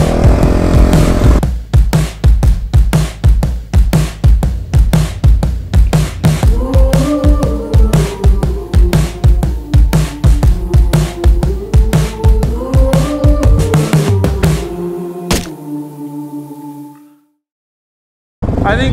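A four-wheeled off-road vehicle engine warms up with loud, close, rapid putting bursts and rising revs, then cuts off sharply near the end, leaving brief silence before it catches again.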